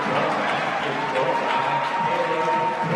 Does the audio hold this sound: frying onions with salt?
no